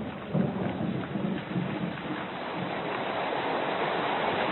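Heavy monsoon rain falls in the Singalila forest, a dense wash of torrential downpour with low rolling thunder rumbling beneath it, steady and loud without voices.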